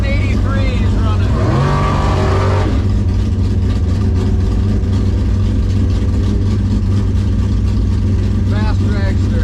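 A dragster runs at a drag strip with a loud, continuous engine roar that swells and holds throughout, while voices talk over it.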